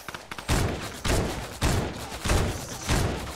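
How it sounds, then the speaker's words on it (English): Repeated bursts of gunfire in the Fortnite video game, loud, close volleys arriving roughly every half second with no talk over them. "We're getting shot at from behind,"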